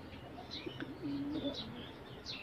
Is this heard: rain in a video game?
no